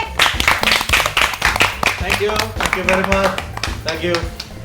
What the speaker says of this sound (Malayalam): അപ്പൊ കൈയടിച്ചേ